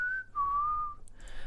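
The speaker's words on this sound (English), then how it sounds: "I'm definitely not a whistling virtuoso, but better than I used to be" A single person whistles a short melodic phrase, clear and close with a smooth gliding pitch, alone with no talking.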